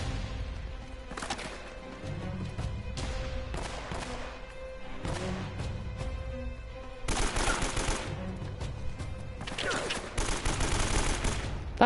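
Gunfire during a shootout in the video game Uncharted: Drake's Fortune: repeated bursts of rapid shots over steady game ambience, growing louder and denser in the later part.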